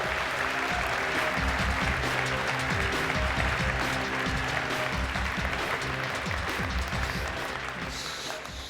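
Dense, steady applause from a large audience at a tech conference's live contest, greeting the contestants as they come up; loud, continuous clapping filling the whole stretch and easing slightly toward the end, with no talk over it.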